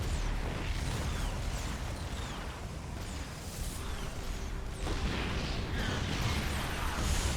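StarCraft battle at a fourth base under attack: a dense, continuous wash of game explosions, bursts and whooshing shots, steady and busy throughout with no clear pauses.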